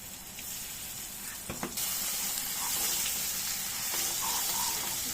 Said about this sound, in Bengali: এবার পেস্টটাকে ভাজবো